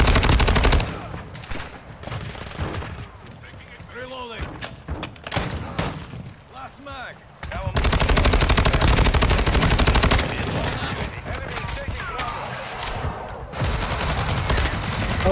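AUG assault rifle gunfire in Call of Duty MWII comes in rapid automatic bursts with close, loud cracks and a lull in the middle, while a player talks at times.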